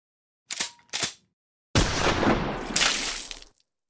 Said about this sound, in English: Hey, why used a shotgun?